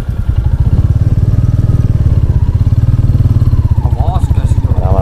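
A Bullet motorcycle idles and chugs while someone learns to ride, its deep, rapid thumping beat loud and close throughout, with faint voices toward the end.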